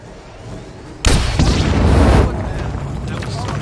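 A sudden loud boom from an explosion in the video game Hitman 2, with a rumbling burst that lasts about a second before fading into background game sound, mixed with voices.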